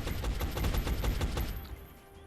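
Shots fire in quick succession during a turn-based squad battle in XCOM: Enemy Unknown with the Long War mod, then trail off into a quieter tail.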